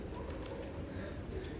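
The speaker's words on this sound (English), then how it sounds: "Looks like these pigeons love this place." Pigeons cooing softly in a Buenos Aires street, low murmuring calls steady under a constant hum of city background noise.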